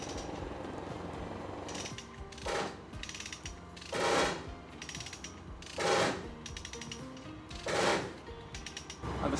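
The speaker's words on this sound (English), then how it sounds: "the strong back is sliding a bit on the forks on the front loader. That's why we get that sound" A strongback slides on the forks of a front loader while a 50 ft boat hull is flipped, making repeated ratcheting, grinding mechanical bursts about every two seconds over steady machinery noise, with no talking.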